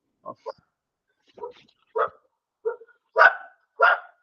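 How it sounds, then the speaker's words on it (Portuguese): Several short, separate dog barks, fairly close, with small gaps between them and the last few louder. "quando eu ligo o microfone, o cachorro começa a latir."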